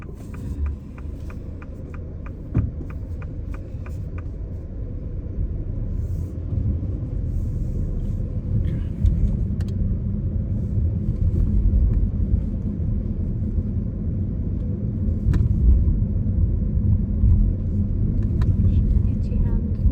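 A car pulling away and driving during a driving test in Chingford, steady low engine and road rumble building slightly over time, with a few ticking indicator clicks early on and occasional talk inside.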